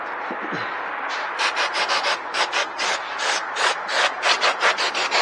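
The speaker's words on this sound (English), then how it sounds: "Just going to give the base a quick clean." A cloth wipes clean the base of an upside-down motorcycle fork covered in oil and grime, making a close, rhythmic rubbing swish in repeated back-and-forth strokes with no talking.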